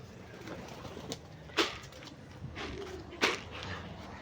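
Pigeons on a house roof cooing softly, with a couple of sharper flutters or calls standing out over a steady background hum, fairly close.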